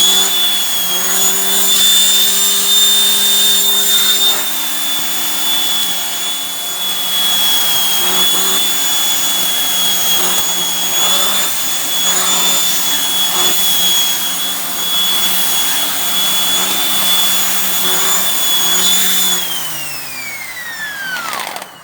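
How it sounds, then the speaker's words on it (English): A Shark vacuum cleaner runs on bare floor with a loud, steady high-pitched motor whine and airy suction roar, close and continuous, winding down in pitch at the end. "So I'm going to have it on bare floor."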